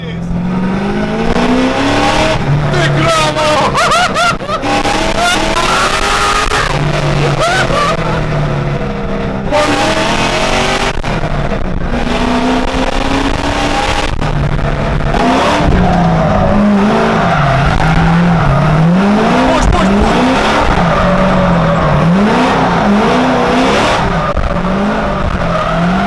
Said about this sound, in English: Hear the sound of this LS3. It's in second gear, 1200 RPM.